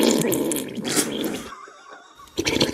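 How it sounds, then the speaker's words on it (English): Fart sounds collected for a stream play in quick succession: a long, wet, rumbling raspberry-like burst, a short gap of near quiet, then another sputtering blast at the end. "Collecting fart sounds for the stream"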